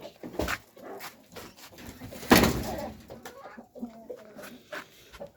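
Turkeys call in short bursts, clucks and gobble-like squawks near and far, with one louder cry in the middle.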